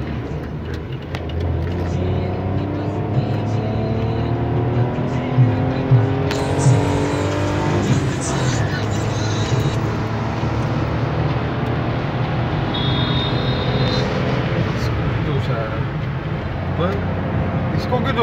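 A Suzuki Celerio runs hard at speed, its small engine droning loudly with rising and falling revs and wind and road roar, with voices talking over it.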